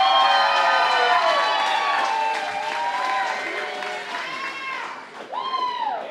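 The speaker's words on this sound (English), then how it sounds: "Let's hear a round of applause for JP" A stand-up comedy showdown crowd applauds and cheers for a comedian, whoops and shouted voices rising over steady clapping that holds loud throughout, dips slightly, then surges again near the end.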